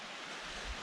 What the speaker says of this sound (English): Here is the fresh water that we drank